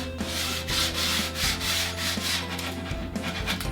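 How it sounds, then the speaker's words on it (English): Hand sanding along the edges of painted wooden furniture with folded 120 grit sandpaper, a steady close-up scratchy rubbing in repeated back-and-forth strokes with no talking. "if you choose to distress it, you're going to grab your 120 grit sandpaper"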